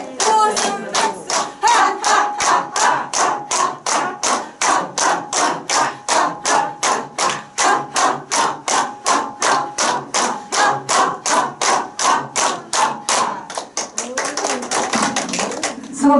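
A lecture audience claps in unison in a steady, counted rhythm, around forty sharp claps evenly spaced, with voices counting along underneath, ending in looser clapping and laughter.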